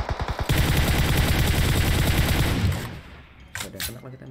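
Sustained automatic rifle fire from a Beryl fitted with a laser sight in the PUBG Mobile battle royale game: a few quick shots, then a dense, loud, rapid burst lasting about two seconds before it cuts off into quieter game sounds.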